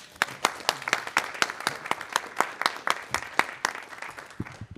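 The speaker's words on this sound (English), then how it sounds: "I think we should give them a round of applause." Sparse hand clapping from a small audience at a state board of education meeting, a few distinct claps in an uneven rhythm that taper off toward the end, moderately faint and heard without talk.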